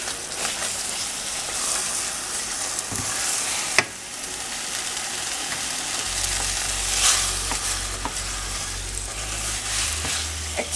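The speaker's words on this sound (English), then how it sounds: "now I'm going to stir it, and it's going to start to form a dough" Churro dough is stirred in a hot pot, giving steady scraping and sizzling hiss with a few sharp clicks, and a low rumble joins in during the second half.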